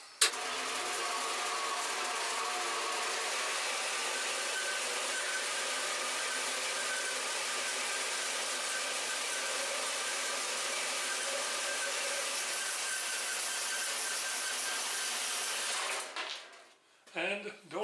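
A metal shaper takes a cut on a steel plate fixture in a home machine shop, giving a loud, steady mechanical roar for about sixteen seconds before it stops abruptly, followed by a few brief clunks.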